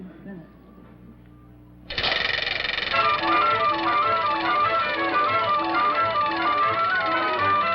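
A game show prize wheel starts spinning suddenly partway through, giving a loud, steady rapid clicking ratchet that carries on to the end without slowing.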